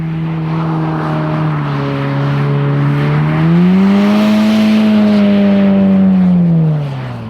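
A VW Golf 7 R drifting in a circle, its engine holding a loud, sustained drone that rises in pitch and falls again, with no one speaking.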